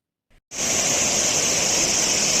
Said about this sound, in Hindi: आप देख रहे हैं ब्यास नदी